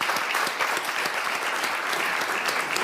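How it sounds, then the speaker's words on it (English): An audience at a World Economic Forum Annual Meeting 2025 panel session breaks into brisk, even applause, with many hands clapping at a steady, fairly loud level throughout. "He deserves a round of applause to Mohammed."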